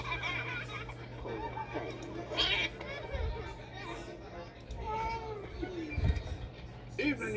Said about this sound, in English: stop tormenting that poor little kitty